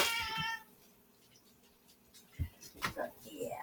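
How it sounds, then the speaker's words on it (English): A small black cat meows indoors, a couple of short close cries near the end after quieter household sounds, with people talking nearby. "The only thing black that I like is this little black cat."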